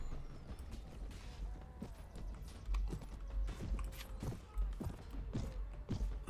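Horse hooves clip-clop in the Mount and Blade: Warband battle game, an irregular run of soft thuds and knocks with creaking gear, moderately near and fairly quiet.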